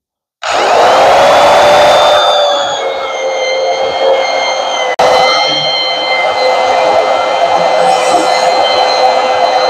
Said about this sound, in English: It's a Portaband brand bandsaw, or Portacable brand.